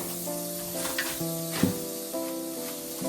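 Butter sizzles on a hot, thick skillet, a steady close hiss with a scraping stir or two and one sharp knock in the middle.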